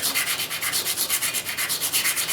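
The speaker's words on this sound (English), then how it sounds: "This is 120 grit wet or dry, so it's kind of coarse." An old Tennessee Strad guitar being sanded by hand with coarse 120 grit wet or dry sandpaper, a close, loud rasping scrub in rapid regular back-and-forth strokes, with no talk.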